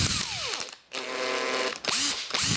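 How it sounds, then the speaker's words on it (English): A Makita power drill, freshly fitted with new brushes, whirs up and down in bursts, its motor pitch rising and falling between short pauses, loud and close. "That's like a new drill now."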